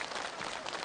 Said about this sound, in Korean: 여러분 다시 한번 구호주님께 축하의 박수 보내주십시오